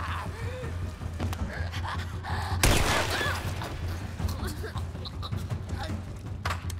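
Gunfire in the video game The Last of Us: Left Behind, a single sharp shot bursting out midway over a steady low hum and scattered game noises.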